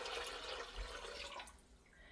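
Water being poured into a pot for plant fabric dyeing with walnut shells, a soft, faint splashing and trickling that runs steadily for about a second and a half, then fades to quiet.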